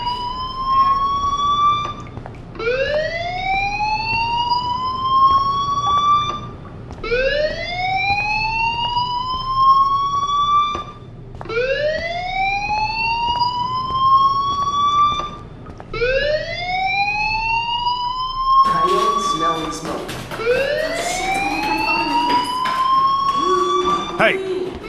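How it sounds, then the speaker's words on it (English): A school fire alarm in the video game Life Is Strange, a siren that repeatedly sweeps upward in pitch, about six rising wails in a row, loud and close, with a brief voice under the final cycles. "Hey, do you hear that fire alarm?"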